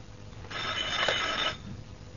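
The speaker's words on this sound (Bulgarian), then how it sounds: "звъни телефон" A telephone rings once in a single sustained electronic burst of about a second, moderately close, over a quiet room hum during a Bulgarian lottery draw broadcast.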